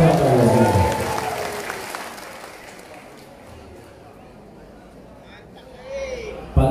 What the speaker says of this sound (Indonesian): Berikan tepuk tangan yang paling dulu kepada Pak Kapolri